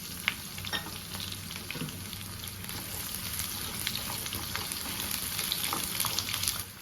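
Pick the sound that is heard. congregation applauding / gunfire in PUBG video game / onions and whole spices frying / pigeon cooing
onions and whole spices frying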